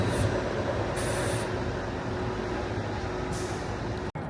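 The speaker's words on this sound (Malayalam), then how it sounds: "ട്രാം അതേ അവിടെ നിന്ന് വരുന്നുണ്ട്." An Edinburgh tram pulling into a stop, heard as a loud steady rumble with a faint whining tone and bursts of high hissing air, ending in a sharp click; no talking.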